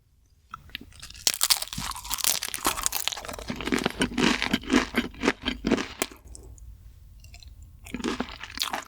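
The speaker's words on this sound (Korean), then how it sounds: "다음 프링글스로 만든 피자 먹어볼게요" Loud, close crunching and chewing of a pizza made from Pringles chips in an ASMR mukbang, with crisp bites and crackly chews in quick irregular clusters, pausing briefly before more crunching resumes, with no talking.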